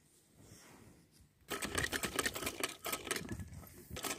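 Sewing machine stitching down the button placket of a gents kurta: quiet room, then a close burst of rapid mechanical needle clatter that pauses briefly and resumes in short runs.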